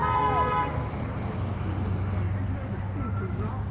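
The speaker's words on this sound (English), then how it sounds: "Give us a honk, brother." A passing car sounds its horn in one short tonal honk at the start, then fades into the steady rumble of road traffic nearby.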